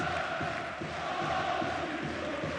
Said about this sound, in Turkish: İkinci yarının başlama düdüğüyle birlikte Ali Samiyen'de büyük bir tezahürat var